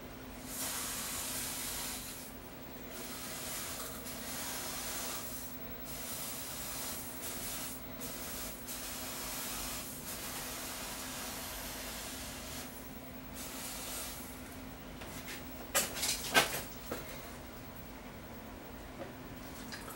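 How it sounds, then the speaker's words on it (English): An aerosol can of cold spray hisses in repeated bursts onto chips inside a Sony KDL37XBR6 television, steady and close, over a faint electrical hum, with a few sharp clicks near the end. "Just spray this thing with some cold spray"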